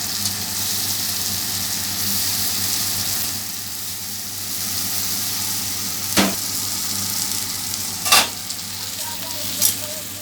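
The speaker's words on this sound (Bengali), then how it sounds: "তেলটা গরম হয়ে গেছে আমি এখন এই চিংড়ি মাছটা দিয়ে দিচ্ছি এটা ফ্রাই করে" Shrimp fry in hot oil before going into a pointed gourd korma. A loud, continuous sizzle is punctuated by three sharp scraping strokes of a stirring spoon.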